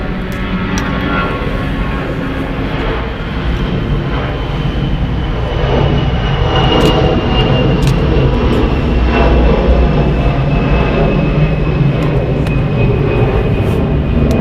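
A 24-year-old Delta Airlines Airbus A320 at Atlanta Hartsfield-Jackson airport, its jet engines producing a loud sustained roar with a high whine that swells midway and holds steady, no talk.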